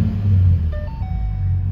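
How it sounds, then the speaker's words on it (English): A 2014 Ford Mustang with an aftermarket exhaust idles close by, giving a steady, deep, loud rumble with a short rise in pitch partway through. "I'll actually start it up because it's got aftermarket exhaust."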